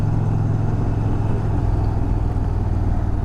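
An Indian Challenger Dark Horse bagger cruiser motorcycle runs at a steady low rumble, an even throbbing engine note close to the microphone with no voices.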